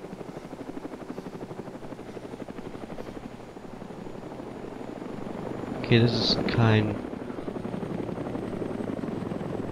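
A helicopter in the video game DayZ flies near the northwest airfield with continuous rotor chopping throughout, loud and steady, while someone speaks briefly partway through.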